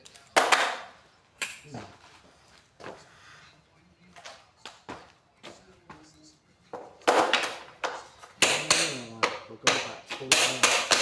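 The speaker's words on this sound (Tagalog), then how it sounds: "Martilyo." Sharp hammer strikes land close by in irregular clusters, some rapid and loud, with pauses and occasional voices between the bursts.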